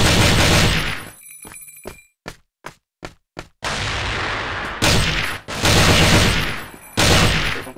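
Gunfire in the video game CFL, with long loud bursts of automatic fire broken by a run of separate sharp shots, all close and dense.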